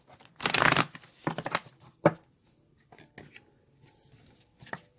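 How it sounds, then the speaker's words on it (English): Tarot cards shuffled close up in a few quick riffling bursts, with softer rustling and handling noises between them, no voices. "So we'll give a quick couple shuffles again."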